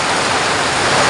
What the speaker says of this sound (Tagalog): Napakalakas ng ulan nitong November 1.